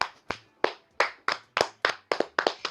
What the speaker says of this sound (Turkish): Ben burada alkışlıyorum.